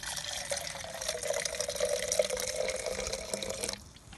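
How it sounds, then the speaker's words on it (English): Warm water is poured in a steady stream into the engine coolant system of a BMW Mini Cooper S, gurgling and splashing for a few seconds before it stops. "we'll just top this up with our warm water"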